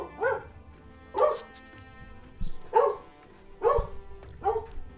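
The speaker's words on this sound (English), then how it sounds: "That plan is to make Peachy bark, and she did it flawlessly." Dog named Peachy barking five times in a loud, evenly spaced series of sharp barks, with a few low knocks between them.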